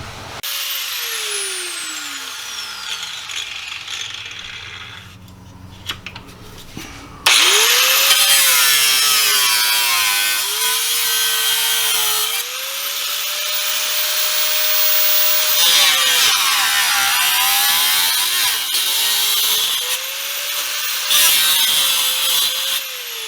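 A power tool whines and rasps as it cuts into a spare car part during an AWD bracket and differential install, loud and close, with a sustained grinding tone that dips and surges over the cut after a quieter start.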